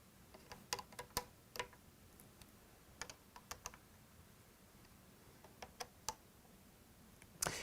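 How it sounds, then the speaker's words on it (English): A torque wrench clicks faintly while scope ring cap screws are tightened to 25 inch-pounds, with sharp isolated clicks in small irregular clusters over a quiet background. "The cap screws are also going to be torqued to 25 inch-pounds using our TW1 torque wrench."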